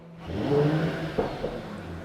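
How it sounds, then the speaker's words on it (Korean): A Mercedes-AMG GT 43 with a 3.0-litre engine starts up, its exhaust rising into a steady close rumble with a couple of short blips, and no voices. "아 배기음 좋다 3000cc 정도 되니까 이 정도 배기음 딱 나오고요"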